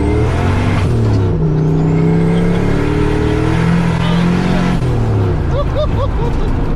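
A McLaren 720S supercar accelerates hard with its turbocharged engine roaring loudly and continuously, rising in pitch through a gear, a shift break, then climbing again.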